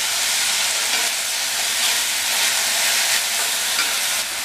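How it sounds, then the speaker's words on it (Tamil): Tomato, onion and garlic sauté in a pan for a radish kara kuzhambu, producing a steady, close, hissing sizzle with no talk. "இந்த தக்காளி, வெங்காயம், பூண்டு எல்லாமே நல்லா வதங்கி வரட்டும்."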